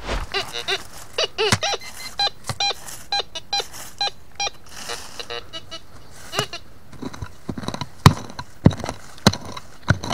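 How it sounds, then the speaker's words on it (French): A metal detector sweeps over the ground and gives repeated short electronic beeps, some in quick clusters, close up, with scraping and rustling handling noise between them. "Laisse-moi passer un coup de détecteur."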